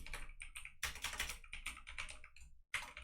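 Fast typing on a computer keyboard during CSS coding work, dense bursts of clicky keystrokes in quick runs separated by short pauses, close and clear with no voice.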